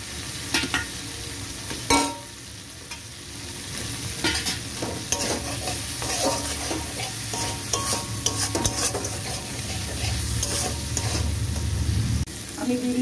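Potatoes fry in a spice masala, stirred steadily, giving a continuous close sizzle with scraping spoon strokes and one sharper clack early on. There is no speech.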